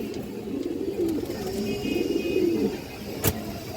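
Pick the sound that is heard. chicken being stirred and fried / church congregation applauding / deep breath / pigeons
pigeons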